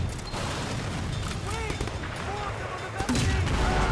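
Sleeping Dogs video game gunfire: rapid, loud bursts of shots over a dense, continuous battle din, with a voice talking underneath.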